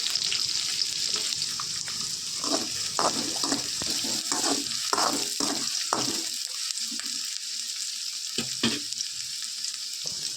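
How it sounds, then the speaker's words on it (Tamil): Onion and crushed garlic frying in a home kitchen, being mixed, a soft continuous sizzle with intermittent stirring clatters and scrapes over the first part, then a quieter hiss, no voices. "இப்போ வெங்காயம் நல்லா வதங்கட்டும் இப்போ இதை வந்து நான் மிக்ஸ் பண்ணிக்கிறேன்"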